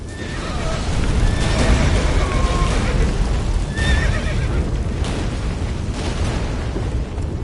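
In the video game The Witcher 3: Wild Hunt, a horse neighs and whinnies repeatedly over loud, dense rumbling and crashing battle noise, with hoofbeats clopping beneath.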